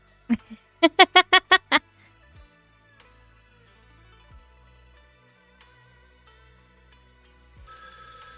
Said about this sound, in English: your phone suddenly starts to ring